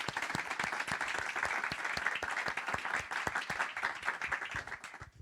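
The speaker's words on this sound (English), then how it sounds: "So can we have a little applause for you," An audience at a Django developer day claps for event helpers, a fairly faint but steady patter of many hands that thins out toward the end.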